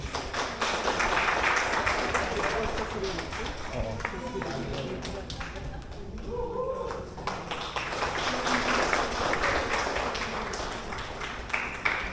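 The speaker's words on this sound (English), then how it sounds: "A huge round of applause for Mr. Oyon Pertin." A crowd applauds the men's winner at the Mechukha kayaking challenge 2025, with steady dense clapping running throughout and voices talking over it.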